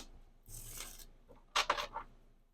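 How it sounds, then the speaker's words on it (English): A deck of tarot cards is given a quick shuffle, two short bursts of crisp riffling and flicking, close and quiet with no talking. "I'm going to give this a good quick shuffle like this."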